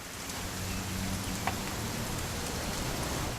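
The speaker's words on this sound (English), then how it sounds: "It's gonna rain the whole weekend" Steady rain falls in a video game, a continuous hiss of drops on surfaces with a faint low hum and one small tap partway through.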